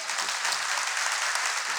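A church congregation bursts into applause, a brief, dense, uniform roar of many hands clapping with no speech over it.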